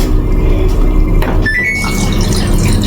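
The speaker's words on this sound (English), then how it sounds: "I press and the water comes from here" Water gushes into the tub of a Samsung top loader washing machine, a steady close rush of filling, with a short electronic beep from the machine partway through.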